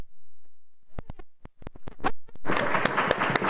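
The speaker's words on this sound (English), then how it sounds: "we can always clap and stomp our feet" A church congregation at an Easter Sunday service claps: scattered single claps build quickly into sustained, energetic group clapping that fills the room.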